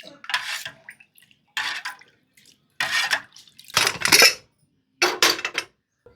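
Chili powder, salt and chili flakes are mixed in a bowl in five separate bursts of scraping and clinking, close and fairly loud, with silent gaps between them.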